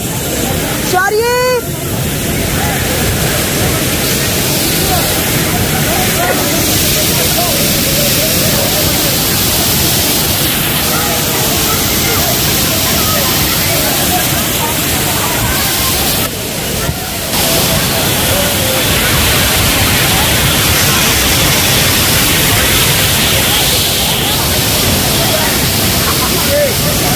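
Steady, roaring rush of Kempty Falls in Mussoorie, Uttarakhand, nearby fills the air continuously, with a person talking faintly beneath the constant white-noise cascade.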